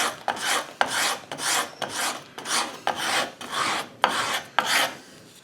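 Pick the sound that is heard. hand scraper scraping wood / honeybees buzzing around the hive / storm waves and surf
hand scraper scraping wood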